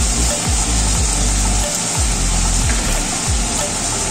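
Potatoes with poppy seed paste and cashew paste frying in a pan while being stirred, a loud steady sizzle close up, broken by repeated scraping strokes of the spoon.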